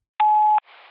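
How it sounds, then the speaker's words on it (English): A voicemail beep, a single clean steady electronic tone lasting under half a second, is followed by a faint hiss of line noise. "It all began with a voicemail."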